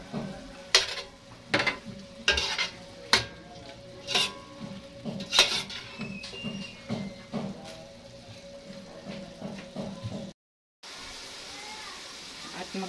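Chorizo cooking in a pan, with a steady sizzle under repeated stirring and scraping of a utensil against the pan, followed by a brief cut to silence and then a softer, even frying sound.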